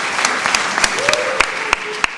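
Audience applause in a small theatre hall after an amateur comedy troupe's performance, steady dense clapping with a few sharp louder claps standing out, and a faint voice briefly heard underneath.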